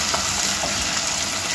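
Tomatoes frying in a hot pan for an adobo-style meat dish, giving a steady, loud, even sizzle with no pauses and no talking.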